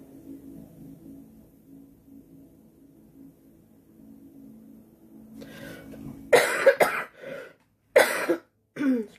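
A low engine-like hum fades out, then a few harsh, loud coughs burst out close by in quick succession, separated by brief silences.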